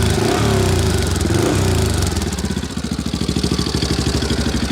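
A Yamaha Big Wheel BW350 engine idles after an electric start, a loud, close, steady single-cylinder putter with a rhythmic pulsing chug that continues without pause.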